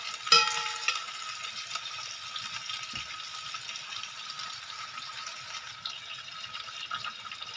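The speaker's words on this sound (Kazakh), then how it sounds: "Және араластыратын боламыз осылай." Potatoes fry in a pan while being stirred, giving a soft, even sizzle with a gentle scrape near the start and a thud partway through, steady and fairly quiet.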